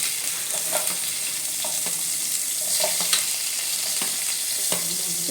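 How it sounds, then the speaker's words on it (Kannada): Onions sizzle and fry in hot oil in a pan for chicken sukka, with a steady broadband crackle and occasional stirring clicks close by, no talking. "ಸೊ ನಾನು ಫಸ್ಟಿಗೆ ಈಗ ಈರುಳ್ಳಿ ಹಾಕೋತಾ ಇದ್ದೀನಿ."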